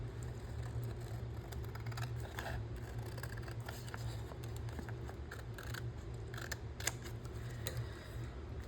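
Scissors trim junk mail paper in a quiet room, a steady run of small snips and crisp cuts over a low constant background hum, with no talking.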